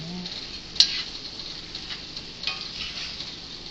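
Spicy ground pork with shiitake mushrooms being stirred and pressed in a hot pan, a soft steady sizzle with faint scraping and one small sharp tick of a utensil against the pan.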